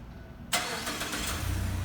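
A 2017 Mazda 6 engine, remote started, cranks and catches abruptly after a moment of quiet, then settles into a steady, close idle.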